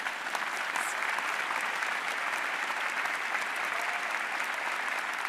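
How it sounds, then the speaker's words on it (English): A large crowd applauds at a university public policy school commencement ceremony, dense, even clapping that holds at a strong, steady level throughout with no voices on top. "Let's clap for that."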